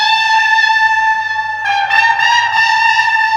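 A hummed vocal line pitched up and drenched in added reverb, sustained and tonal with steady bright harmonics, swelling slightly midway through as part of a live music breakdown.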